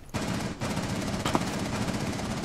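Rapid automatic gunfire in Rainbow Six Siege, a loud, close, continuous burst of fast shots lasting over two seconds.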